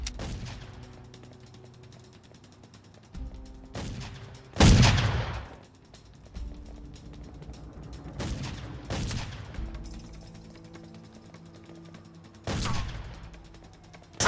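Sniper rifles fire in the Mafia game, several loud sharp cracks scattered over a low mechanical hum, with rattling and clanking sounds in between.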